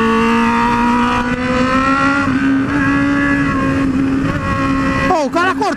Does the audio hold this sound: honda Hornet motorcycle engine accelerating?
yes